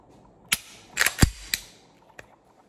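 A Glock 23 Gen 5 pistol being function-checked after new Trijicon night sights were fitted: several sharp, close mechanical clicks and snaps of the slide and dry-fired trigger, spaced irregularly over a quiet background.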